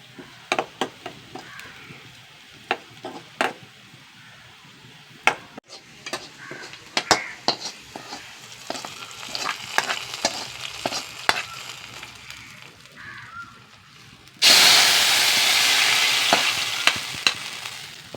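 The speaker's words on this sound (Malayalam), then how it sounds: "ഉള്ളി നന്നായി മൂട്ട് വരട്ടെ ഉള്ളി മൂട്ട് വന്നുകൊണ്ടിരിക്കുന്നു" Onions fry for a dried fish curry, with repeated scraping and tapping of a stirring spoon against the pan, then a sudden loud surge of sizzling near the end.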